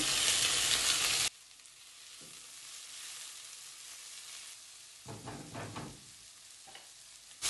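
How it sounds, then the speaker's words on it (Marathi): Chopped onion and tomato fry in oil in a pan, making a quiet sizzle with a few stirring scrapes after a louder burst at the start. "हिंगा आनियन फ्राय जालो एक हांव टोमाट घाता चॉप केलोले"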